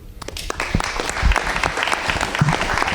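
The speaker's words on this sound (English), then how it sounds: "would you please join me in giving a big round of applause to our honoree for this month, Officer John Mickelson." A round of applause for an honoree, a police officer from West Fargo, fills the room with dense, steady clapping from a group, close and loud throughout with a few sharper hand claps standing out.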